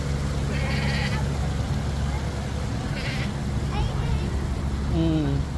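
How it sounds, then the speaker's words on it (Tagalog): Goats bleat a few times from a short distance amid outdoor crowd noise and a low engine hum at a grill venue in Bahrain, with voices talking throughout. "Ayan po yung mga kambing"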